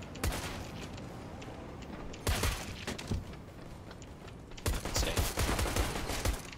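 Pistol fire in a first-person shooter match, several sharp loud gunshot bursts in quick clusters, with a sustained crackle of game action between them.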